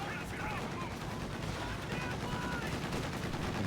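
Gunfire from an anti-air half-track and other weapons in the real-time strategy game Company of Heroes 2, a dense continuous clatter of rapid shots and battle noise that stays steady throughout.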